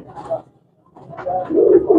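Pigeons coo at a busy pigeon market, with short soft low coos starting and then a louder run of throaty cooing near the end.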